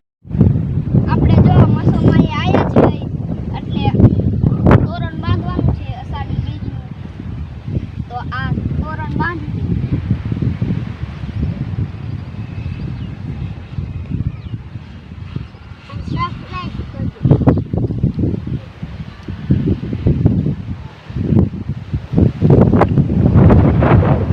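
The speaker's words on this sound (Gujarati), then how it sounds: "જો વરસાદ પણ ચાલુ થઈ ગયો થોડો થોડો જો પવન" Gusty wind blows outdoors in a Gujarat village as light rain begins, buffeting the microphone in loud low rumbles that rise and fall. People talk over it through much of the stretch.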